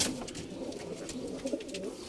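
Pigeons coo softly in a steady murmur, a low repeating warble with faint bird chatter over a hum of background noise.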